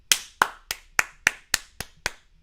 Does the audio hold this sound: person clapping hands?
yes